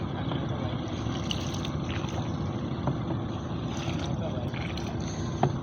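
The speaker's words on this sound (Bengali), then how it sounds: "আপনাদের হুজুর দেখে নৌকা বাইতেছে" A wooden boat rowed along the Titas river, with a steady wash of moving water and a low continuous rumble at moderate level, plus a soft knock near the end.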